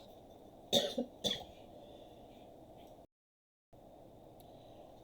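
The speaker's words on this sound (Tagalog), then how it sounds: "Grabe yung ubo." Two sharp coughs in quick succession stand out over a faint steady hiss, followed by a short stretch of total silence.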